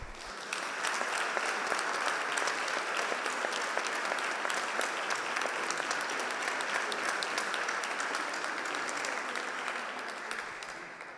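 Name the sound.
applause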